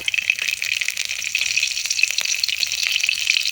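Steady, crackling sizzle of a bay leaf frying in hot oil in a heated wok, close and fairly loud, with small pops scattered throughout and no talking.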